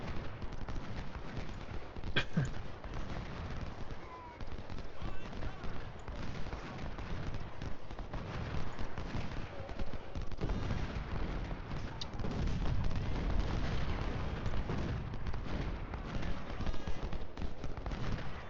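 Massed musket fire and cannon booms from a Union Civil War battle in the Ultimate General Civil War game, a dense continuous rumble of shots with occasional sharper cracks, steady and fairly loud throughout with no talking.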